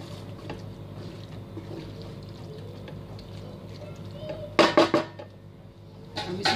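Chicken keema being mixed in a pan: steady low kitchen rumble gives way to a few loud spoon-on-metal clanks and scrapes near the end, with no talking.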